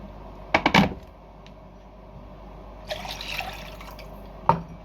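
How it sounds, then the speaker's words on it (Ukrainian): Short bursts of about 200 ml of water splashing and dribbling into a cooking pot, with a brief trickle in the middle and a final splash, close by. "Таку саму кількість води вливаю."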